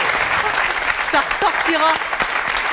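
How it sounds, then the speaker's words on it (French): Studio audience applause rings out steadily while a voice speaks over the clapping. "Oui, on peut l'applaudir."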